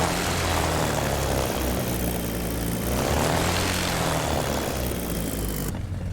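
A Bf-109 fighter's propeller engine in DCS World throttles up while held on its brakes, a loud, close, steady roar that swells slightly through the middle, with no voices.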